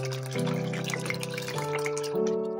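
Water pours into a pot of lentils salted with turmeric and green chillies, a continuous gushing stream whose pitch steps upward as the pot fills, close and fairly loud with no talking.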